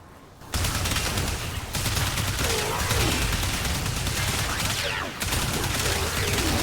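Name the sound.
automatic shotgun firing in the video game Warframe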